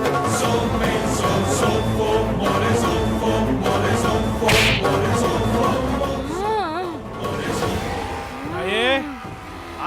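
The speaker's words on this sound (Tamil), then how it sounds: "என்னையும் சாட்டையால அடிச்சு விழுத்துருவாளோ?" Whip cracks sharply several times in a festival scene from a Tamil TV serial, the snaps cutting through loud music and overlapping voices, with a few swooping tones near the end.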